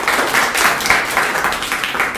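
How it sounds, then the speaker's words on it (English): A small audience claps for a student who has just finished a talk in an English speaking activity on education, giving a steady, moderately loud patter of hands for about two seconds with no voices. "Please clap for her."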